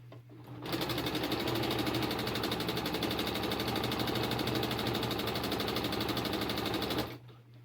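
A sewing machine stitching a pin cushion runs in one rapid, even mechanical whir. It starts abruptly, runs close and loud for about six seconds, then stops.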